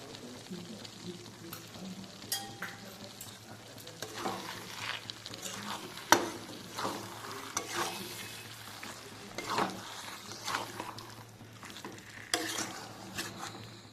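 Chicken curry frying and being stirred in a pan, a steady sizzle under irregular scraping and stirring knocks, with occasional sharper clanks from utensil on metal, fairly close.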